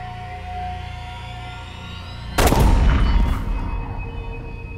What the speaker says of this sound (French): Il n'a eu besoin que d'une balle pour tuer Blake